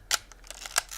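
A Leica M-A film camera's shutter fires at 1/125 second up close, a soft, quick pair of mechanical clicks against faint room hiss.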